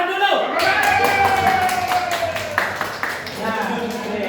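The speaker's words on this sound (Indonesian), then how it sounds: "Oke, tepuk tangan dulu." A classroom of children clapping their hands together in a rapid burst of sharp claps, mixed with young voices calling out over the clapping.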